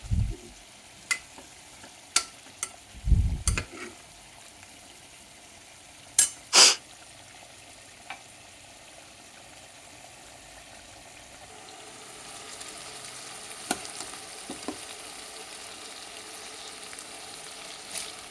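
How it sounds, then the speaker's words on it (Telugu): Yogurt and spices are stirred into vegetable pieces in a pan for aloo kurma: a few sparse scraping clicks and taps early on, then a soft, steady sizzle, all fairly quiet with no talking. "పెరుగు వేసి బాగా పూర్తిగా ముక్కలకు అన్ని మసాలాలన్నీ కలిసేట్టు కలపాలి."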